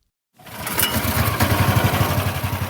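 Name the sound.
power tools and big trucks at a flood rebuilding site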